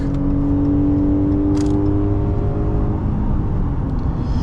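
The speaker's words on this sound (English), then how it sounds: "Now let me overtake this truck real quick." A 2025 Ram 1500 pickup accelerates on a highway to pass a truck, a steady loud engine drone with rising tone heard from inside the cab, no talking.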